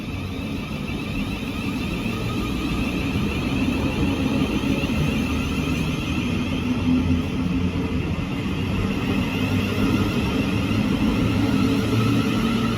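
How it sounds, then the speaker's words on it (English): A Thameslink Class 700 electric multiple unit, 700-002, pulls out of Denmark Hill station on a London Blackfriars service, giving a steady, fairly loud low rumble and whine that holds evenly throughout with no talking. "departing now is the 10:47 Thameslink service to London Blackfriars"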